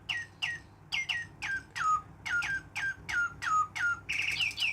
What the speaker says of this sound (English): I like the bird. The bird might be the best thing on this channel.